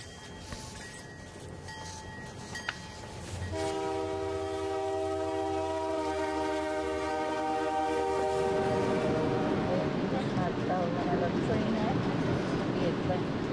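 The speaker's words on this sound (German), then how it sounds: "Kein Dampfross mehr, aber ein Dieselmulli mit gelegentlichen Schwächeanfällen." A diesel locomotive train on the line to Moosonee rumbles steadily along, with a long, loud, sustained horn blast sounding over the running noise from about four seconds, then rolling clatter continuing.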